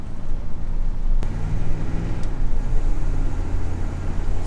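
A Chevrolet C10 pickup fitted with new speed parts, driven in a short street performance run, gives a loud, steady close engine and road rumble with a couple of sharp knocks.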